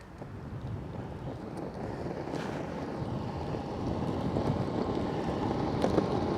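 A WOWGO electric skateboard in turbo mode accelerates from a standstill to 25 over a rough road, a steady broadband rumble of wheels and wind building gradually in loudness throughout, with no talking.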